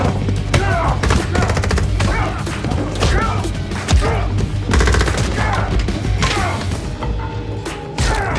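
Rapid bursts of gunfire and heavy impacts from a shootout in the action movie Nobody, with armed attackers storming a family home; dense, loud volleys with thuds and crashes continuing throughout under a steady low musical drone.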